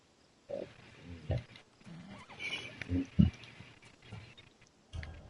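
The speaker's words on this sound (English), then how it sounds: "That's a nice horse, Socrates. It's a very nice horse. A sturdy horse" A horse in the video game Assassin's Creed Odyssey snorts and neighs in short bursts, with brief shuffling and low animal sounds between, close and moderately loud.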